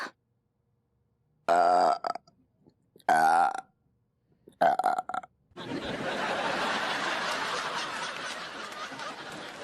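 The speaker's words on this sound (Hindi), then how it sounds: "डकार आ गई इनको।" A person burps three times in a comedy sitcom scene, each burp loud and drawn out with a croaking tone and spaced a second or so apart, followed by a steady wash of background noise.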